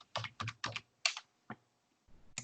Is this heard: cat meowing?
no